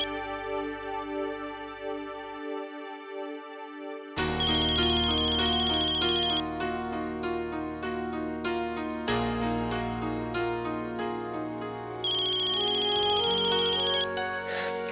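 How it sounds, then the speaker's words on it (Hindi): A mobile phone ringtone plays on and on without being answered, a bright, melodic electronic tune with shifting notes that fills the whole stretch, fairly loud and close, with no voices. "अक्षरा फोन क्यों नहीं उठा रही?"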